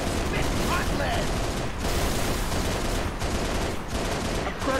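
Loud, continuous weapon fire and mechanical clatter in a Halo: Reach battle, dense bursts running the whole time with a few quick breaks.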